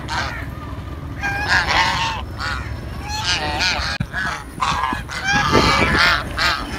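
Ducks honking loudly and close by at an animal market, several overlapping nasal calls in quick succession, with scattered rustling and outdoor background noise.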